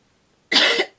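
A single loud cough bursts out close by, a sharp broadband hack lasting about a third of a second, followed by the start of a second cough right at the end.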